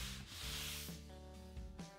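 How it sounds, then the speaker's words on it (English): Soft, steady rubbing of 150-grit sandpaper across a wooden tabletop, quiet back-and-forth strokes with a faint underlying hum, no voices. "I'll give the tabletop a light sanding with 150 grit sandpaper"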